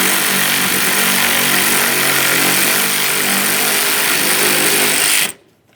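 A power tool runs loud and steady for about five seconds while backing out an 8mm mounting bolt on a 2013-2020 Ford Fusion bumper near the fender, then cuts off abruptly.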